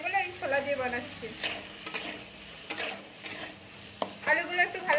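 Potato pieces fry in oil in a kadai with a little salt, giving a soft continuous sizzle broken by sharp scraping ticks from stirring, while someone talks over it.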